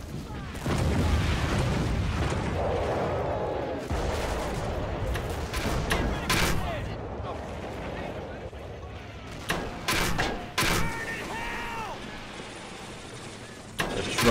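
Mortar and small-arms gunfire from the World War II strategy game Men of War at Carentan: a dense, continuous battle din of booms and shots, with several louder sharp reports near the end.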